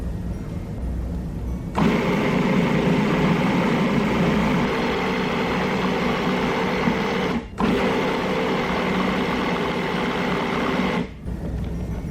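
A blender whirs steadily while mixing pesto sauce of fresh basil and lemon juice as olive oil is added, a loud even motor drone with two short pauses, no voices.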